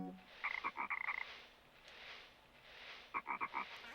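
A frog croaks in the video game Chibi-Robo, two quick bursts of rapid, ratcheting croaks separated by a quiet pause, fairly close over a soft ambient hum.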